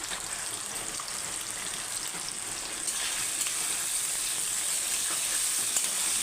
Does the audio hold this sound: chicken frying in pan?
yes